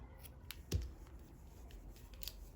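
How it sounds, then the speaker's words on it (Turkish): Scissors snip through yarn during hairpin crochet mat making, two or three quick, crisp cuts close by in a quiet room. "Ve şu şekilde bu ipimi keseceğim buradan. Diğerini de kesiyorum."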